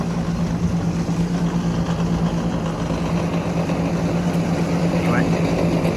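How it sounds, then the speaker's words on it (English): A railroad yard cleaner machine running with its broom and conveyor belt going, a loud steady engine drone with a constant low hum and continuous mechanical rumble, with a voice talking faintly over it. "See, the broom is running, the conveyor belt is running."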